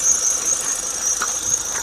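A dried-out drive belt in a car engine squeals with a steady, piercing high whine that holds unbroken and loud throughout, with no voices.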